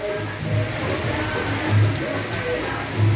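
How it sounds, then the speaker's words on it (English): Steady rain falls on Loi Kroh Road in Chiang Mai during the rainy season, a constant broadband hiss of drops with faint low rumble, heard without speech throughout. "So it started raining when we left"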